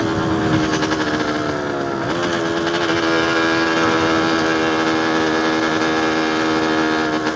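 Yamaha DTR 125 two-stroke motorcycle engine labouring in fourth gear on a cold day, a loud, close, continuous buzzing drone with a rising and falling pitch as it strains throughout.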